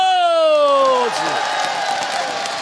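A crowd at an outdoor Korean singing contest claps and cheers loudly, with a long sliding whoop or voice at the start, then dense ongoing applause with shouts mixed in.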